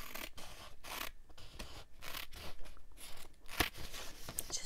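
Scissors trim paper for ddakji, making close, soft rhythmic snips and rustling cuts in a steady series of short strokes, heard alone at low volume.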